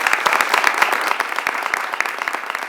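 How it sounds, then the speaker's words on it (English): A crowd gives Senator Kirsten Gillibrand a round of applause at an abortion-rights event, the steady, close clapping of many hands sustained throughout the brief moment. "I want to give her a round of applause."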